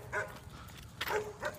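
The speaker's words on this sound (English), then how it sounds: "This is a dog barking." Dog barking indoors in a house: a few separate barks and yips, fairly faint and somewhat distant, with quiet background noise between them.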